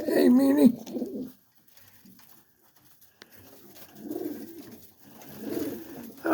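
Young racing pigeons coo in a loft, with bursts of soft, throaty cooing at the start and again toward the end, separated by a quieter stretch.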